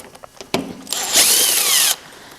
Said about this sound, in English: So I got one more bolt to get off up here.